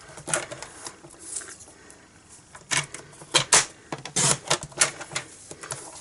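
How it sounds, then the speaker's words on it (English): Paper trimmer slicing around a stamped card image freehand, a run of short crisp cuts and snips in irregular bursts, close and fairly quiet with small handling clicks between strokes. "get our trimmer out. Here it is, and we're just going to cut this out"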